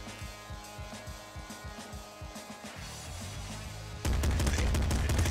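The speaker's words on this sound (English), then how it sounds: "It's a machine gun." Rapid machine gun fire from the Nuclear Throne video game, a fast rhythmic stream of punchy retro shots that cuts out briefly, then returns as a louder, denser burst of gunfire with no talk.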